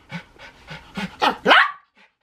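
A dog pants in quick short breaths, then lets out a rising bark or yelp, close and clear, with a brief quiet after.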